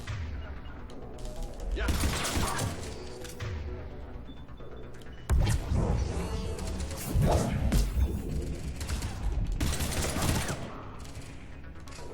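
Video game gunfire from Mass Effect 3 on Insanity difficulty, heavy bursts and impacts mixed with crashes and thuds throughout a combat scene, with a voice speaking briefly.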